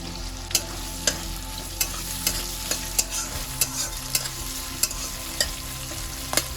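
Garlic, green chilies and a chopped medium onion fry in hot oil. A constant, close sizzle is punctuated by a steady series of sharp spatula scrapes and taps about every half second. No talking.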